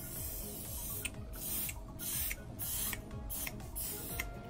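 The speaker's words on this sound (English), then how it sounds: "You're gonna spray in this area so your towel does not move." Several short hissing blasts of temporary adhesive spray onto a towel for machine embroidery, in quick succession, close by, over a low rumbling background.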